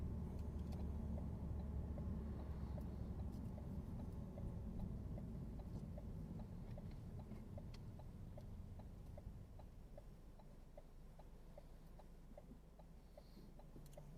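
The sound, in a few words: car driving during a driving lesson, changing gear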